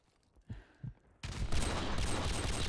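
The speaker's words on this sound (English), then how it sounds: "I got a sniper hit mark on whoever peeked out bottom lights." Two faint soft thumps, then a sudden loud sniper rifle shot in a shooter video game, its harsh roar ringing on and echoing without letting up to the end.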